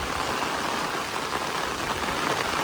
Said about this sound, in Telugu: వర్షం కురుస్తోంది ఎంత బ్యూటిఫుల్గా అనిపిస్తుందో చూడండి అటవీ ప్రాంతం